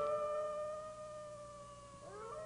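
A sustained wolf-like howl sound effect, steady and tonal, rising and bending into a new wavering howl near the end, with no speech over it.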